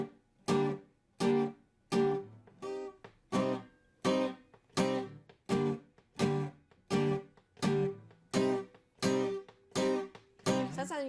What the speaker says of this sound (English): That's how you get that really sharp kind of reggae sound on your guitar.